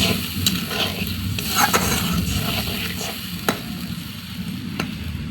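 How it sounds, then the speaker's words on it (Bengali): Stuffed pointed gourd stir-fries with a little water, a steady close sizzle under busy stirring and scraping, with a few sharp utensil knocks against the pan and no voices. "সামান্য জল দিয়ে একটু কষিয়ে নেব এটাকে"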